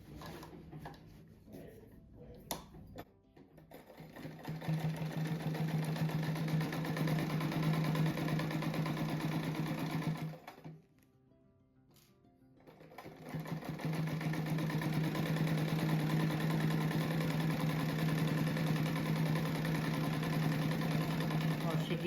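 A sewing machine stitches a crazy-quilt patchwork rug made of fabric scraps, running in a steady close hum for several seconds, pausing briefly, then resuming; no speech is heard.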